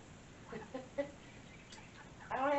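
Chickens give a few soft, scattered clucks close by, followed by a louder, sharper call at the end, against a quiet outdoor background with faint handling noise.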